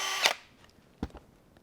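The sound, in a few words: drilling a hole in zip tie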